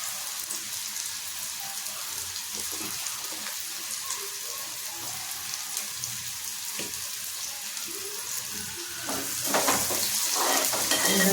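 Asafoetida dropped into hot oil in a pan while cooking egg curry, giving a steady close crackling sizzle that swells louder near the end, with no voices.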